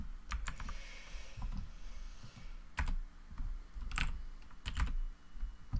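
Quick bursts of keystrokes on a computer keyboard, close and clear, with short pauses between runs and no voice.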